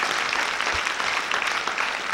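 Dense, sustained clapping from a crowd at a stand-up comedy show in Canada, many hands merging into a steady roar of applause that carries on throughout without voices.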